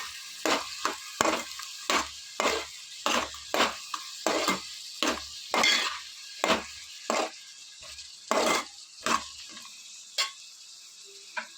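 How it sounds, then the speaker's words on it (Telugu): Onions, green chillies, curry leaves and cumin sizzle in hot oil for a Telugu bendakaya pulusu, heard as a string of close, crisp spits and crackles in irregular bursts with quiet gaps. "ఆయిల్ బాగా వేడెక్కిన తర్వాత ఆనియన్స్ పచ్చిమిర్చి కరివేపాకు జీలకర్ర వేసుకుని ఇవన్నీ కూడా బాగా ఫ్రై చేసుకోవాలి"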